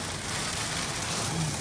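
Heavy rain and strong storm wind roar steadily outside, a dense, continuous wash of noise with no clear breaks.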